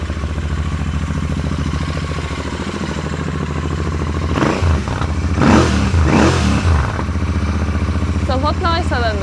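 Royal Enfield Interceptor 650 on its stock exhaust, a steady loud twin-cylinder idle that swells into a few blips of revving midway, close by, with brief voices near the end.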